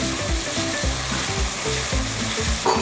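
Light soy sauce poured around the edges of ground meat frying in a pan for Korean budae jjigae, giving a steady close sizzle that runs through the whole moment without any talking.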